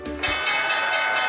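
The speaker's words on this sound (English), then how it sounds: "time for the opening bell report" A stock market opening bell on a Seattle morning radio news broadcast rings loud and sustained, a bright metallic clang that continues steadily after a brief low hum at the start.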